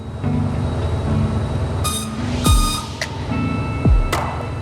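Heavy rail rumble with steady horn-like tones, as two swooping whooshes pass close by over continuous rolling train noise from an Amtrak Southwest Chief passenger train departing Los Angeles.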